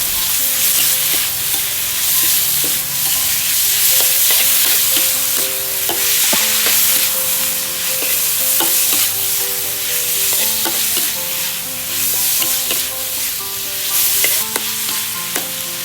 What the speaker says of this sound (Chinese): 然后大概1勺的蚝油， 稍微给它翻炒一下